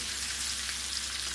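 Beef short ribs browning in a hot pan for a red wine braise, giving a steady, even sizzle that hisses softly and continuously without pause or voices.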